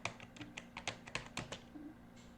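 Python code is typed on a computer keyboard, about a dozen quick, crisp keystrokes arriving close and fairly quiet in an uneven rhythm, then a short pause.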